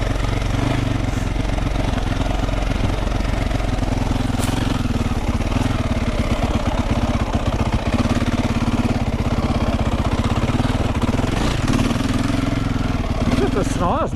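A KTM 300F dirt bike on a muddy trail in second gear, its engine close and loud in a continuous rasping drone with small throttle swells, while a rider talks over it.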